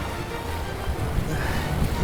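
Wind buffets a camera microphone on a fishing boat off Tampa, Florida, a loud, low rumbling roar that fills the whole stretch without letting up.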